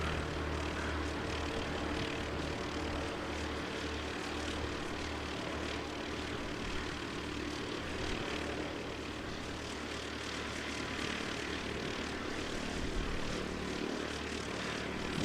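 Passenger aircraft on flight NZ5765 arriving from New Plymouth at Christchurch Airport, heard as a continuous, fairly distant propeller-engine drone with a low rumble, steady over the whole stretch, under gusting wind and with no talking.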